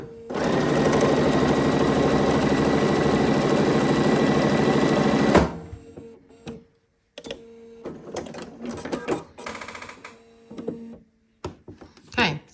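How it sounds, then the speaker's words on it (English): A sewing machine stitches fabric scraps for a quilt block in one long steady run of rapid mechanical chatter. Quieter handling sounds and brief talk follow after it stops. "I'm just going to sew all the way through anyways"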